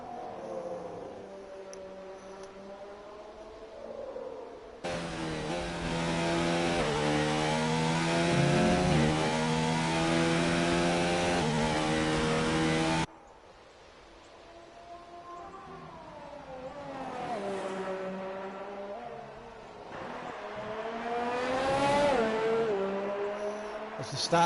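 F1 car engine on its out lap in a racing video game, a loud, steady, high-revving tonal whine that rises and falls through gear shifts, cutting off abruptly midway before building again.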